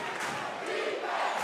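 A crowd cheers loudly at a men's college basketball game between Bethune-Cookman and Jackson State, a dense, sustained roar of many voices filling the arena.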